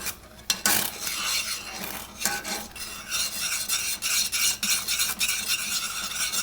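A spoon stirs a thickening kimchi porridge paste, producing continuous close scraping and rubbing strokes in an uneven rhythm, with no talking.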